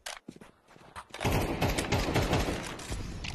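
Rapid gunfire in the video game Counter-Strike 2, sporadic shots at first and then a sustained loud volley of dense automatic fire, close and continuous.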